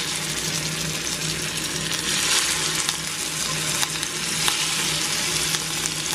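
Ground beef frying in a hot pan, a steady close, loud sizzle with crackling bursts and stirring scrapes throughout, no talk.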